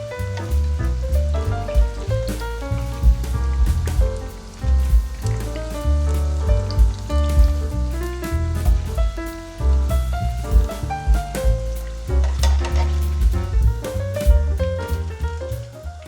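Battered broccoli, green beans and yellow beans deep-frying in hot oil for a summer fritto misto, a steady crackling sizzle running for about sixteen seconds beneath loud, continuous background music.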